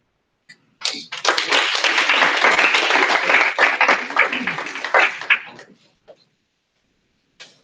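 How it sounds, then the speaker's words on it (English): A conference audience applauding as a speaker on blockchain comes to the stage, a burst of many hands clapping close by that swells quickly, holds for about four seconds, then thins out to scattered claps and one final clap. "We'll give him a hand of applause."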